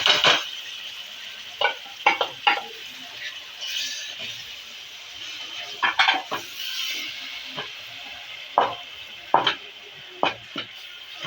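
Ground tomatoes and green chillies being fried as masala for Lahori-style tinda: soft sizzling under repeated metal spoon scrapes and knocks against the pan, close by and without talking.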